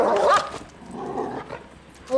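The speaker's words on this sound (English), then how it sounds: "Against NPC dogs." A dog in the video game GTA V lets out a sharp bark followed by quieter yips and whimpers, close and fairly loud, alone without talk.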